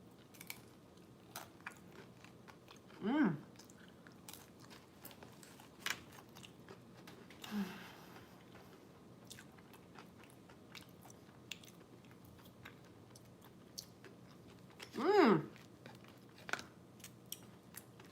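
Crunchy food is bitten and chewed in a few short, crisp bursts spread out over a quiet stretch, close to the microphone but faint overall, with no talking between them.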